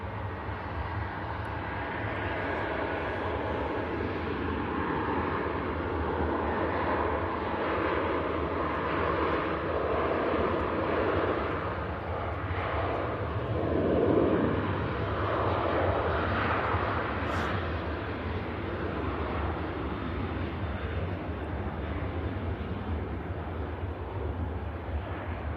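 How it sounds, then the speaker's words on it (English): Ryanair airliner climbing out after takeoff, a continuous broad jet roar that swells gently and then holds, heard from a distance outdoors with no talking. "The Ryanair climbing out"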